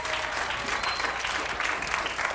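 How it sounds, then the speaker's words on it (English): Game show studio audience applauds, a dense, steady burst of clapping at close range filling the whole stretch. "See, the crowd's not giving it up for anybody but Joel right now"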